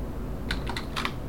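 Short run of typing on a computer keyboard while entering a CAD command: a handful of crisp, close keystrokes in quick succession over a steady low background hum.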